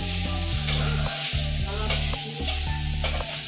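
Soybean chunks and potatoes fry and get stirred in a pan in a home kitchen, a continuous close sizzle broken by stirring scrapes, with steady music playing alongside.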